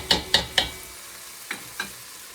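Carrots and onions being stirred in a pot for boeuf bourguignon, with three quick scraping clicks close together, then two softer ones, over a low, steady sizzle.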